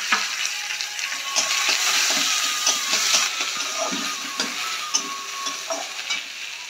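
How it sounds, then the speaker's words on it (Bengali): Chopped onion sizzles loudly in hot oil, a continuous frying hiss broken by light stirring clicks and small pops, with no voices. "এবার আমি এর মধ্যে পেঁয়াজ কুচনোটা দিয়ে দেবো।"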